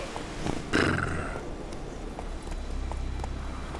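Hoofbeats of Roach, Geralt's horse in The Witcher 3, clatter in a steady galloping rhythm under a low rumble of game ambience, with a louder burst near the start.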